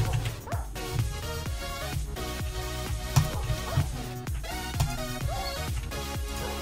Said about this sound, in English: all of these dogs are just dying